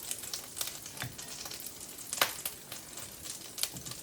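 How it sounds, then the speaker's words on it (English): Hot grits in a pan spit and pop, with sharp irregular crackles over a soft bubbling sizzle, fairly close and quiet, with no talking. "Getting a little popping going on there."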